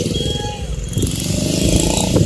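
Motorcycles and other vehicles pass along a busy road near Thoranamalai Murugan Temple, a steady close engine drone with rising, swelling passes, under a faint voice.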